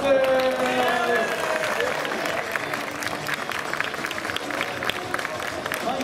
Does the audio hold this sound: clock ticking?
no